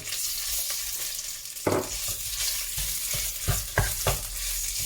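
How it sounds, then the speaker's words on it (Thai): Curry paste stir-frying in a pan on an electric stove at medium heat, with a steady sizzle and repeated spatula scrapes and knocks, close and fairly loud, no voices. "ผมจะ ผัดพริกแกงก่อนนะครับ"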